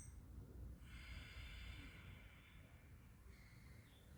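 Slow ocean-like breathing through a constricted throat, a soft airy hiss swelling and fading on the out-breath, close and quiet with no talking.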